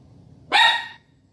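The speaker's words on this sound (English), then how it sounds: "those are my dogs, Skylar and Suleiman, who hear me talking an" Two household dogs give a single loud, close bark lasting about half a second, standing out clearly against a quiet indoor room with no talking.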